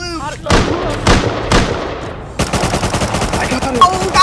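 Gunfire in the survival video game Rust during a cowboy-themed factions roleplay, loud sharp shots at first, then rapid automatic bursts, with voices talking over the firing.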